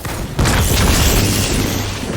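A video game grenade explodes in a sudden heavy boom, followed by a rumbling decay that lingers for about two seconds.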